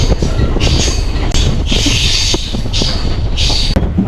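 A MEMU train running on rails between Varkala and Kanyakumari, a loud continuous rumble of wheels with repeated high metallic squeals rising and fading throughout.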